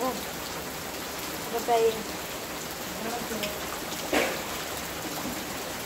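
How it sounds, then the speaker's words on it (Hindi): Steady heavy rain hissing down throughout, with a couple of brief voices speaking faintly in the background. "बहुत बारिश हो रहा है"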